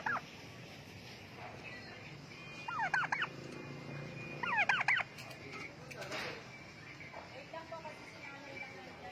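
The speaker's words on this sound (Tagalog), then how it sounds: "ayan po yung pabo." A turkey gobbles twice in short bursts a couple of seconds apart, over faint background noise and occasional quiet voices, near the Malinta exit.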